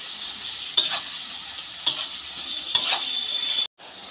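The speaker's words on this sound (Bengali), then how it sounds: "ক্যাপসিকামটাও এই পেঁয়াজের সঙ্গে একসঙ্গে ভেজে নেব।" Chopped onion and capsicum fry in a pan with a steady sizzle, broken by three scraping stirs of a spatula, before the sound cuts off near the end.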